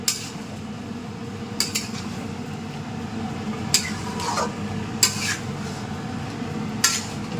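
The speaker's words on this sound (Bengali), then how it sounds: "এই যে কড়াইয়ে আর মাংস চেপে গেছে।" Metal utensils clink and scrape against a wok (kadai) where mutton is cooking. Sharp spoon strikes land every second or so over a low background hum, with no talking.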